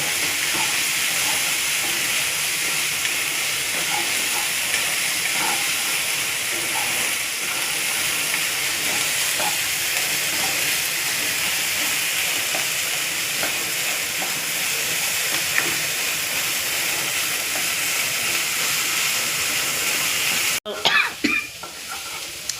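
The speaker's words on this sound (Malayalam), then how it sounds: "ഉള്ളിയൊക്കെ വാടി നല്ല ബ്രൗൺ കളറായിട്ടുണ്ട്." Onions frying in a pan until browned for Kerala ulli theeyal, a steady close sizzling hiss that runs unbroken, with a brief clatter near the end.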